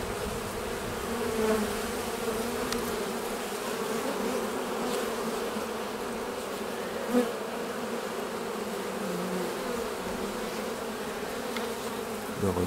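Bees in flight at a beehive entrance, a steady dense buzzing hum filling the air, close and continuous with no voices.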